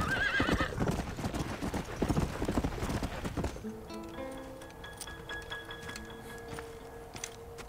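Rapid, loud hoofbeats gallop up close at first, then drop to quieter steady clopping as a horse snorts and whinnies, in the video game Red Dead Redemption: Undead Nightmare.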